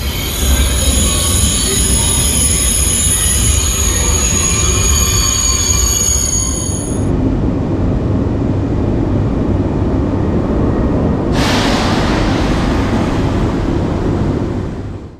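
A train from Geneva Airport bound for Chur pulls into a station in the Swiss Alps with loud, close rumbling and high squealing wheels, and a fresh hiss of brakes comes near the end.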